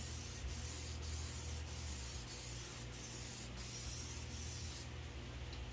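Spray paint hissing steadily onto a removable backdrop while a fourth coat goes on, a continuous close hiss with a faint periodic ticking, then easing at the end.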